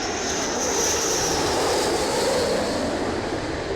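A B-1 bomber flying overhead, its jet engines giving a loud, steady broadband roar with a high whine on top that holds throughout, no voices.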